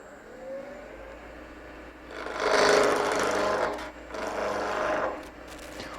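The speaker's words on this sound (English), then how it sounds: "you can move an awful lot of wood with a skew" A skew chisel shearing across a round wooden blank spinning on a lathe, giving two sustained hissing cuts of about two seconds each with a brief pause between, over the steady low hum of the machine.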